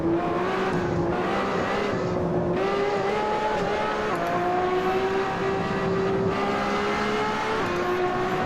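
A LaFerrari hybrid supercar lapping through the Parabolica corner in the racing simulator Assetto Corsa, its engine a continuous loud drone rising slowly in pitch as it accelerates, with faint tire scrub underneath.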